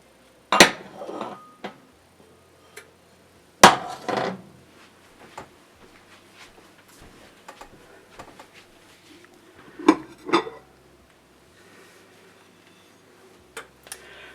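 Metal and glass covers lifted off freshly baked bean dishes: several sharp clanks and clatters close by, separated by quieter taps and scrapes, with no talking.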